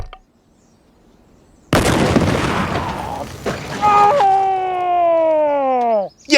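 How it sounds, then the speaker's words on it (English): A loud explosion blasts a limousine on water, a sudden heavy boom followed by rumbling debris, then a rising siren-like tone and voices shouting in the aftermath. "And you've overdone the explosives."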